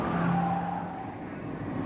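Super modified stock cars race by with a roaring engine drone and a brief high tire whine, at a moderate distance and with no voices, heard in a 1985 race broadcast.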